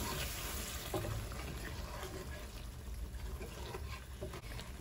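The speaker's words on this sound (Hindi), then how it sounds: "अब मैं इसमें थोड़ा सा पानी ऐड कर दूँगी, लाइक 1/2 कप" Roughly half a cup of water is poured into a cooking pot of turnip and meat curry, a soft continuous splashing hiss with no talk.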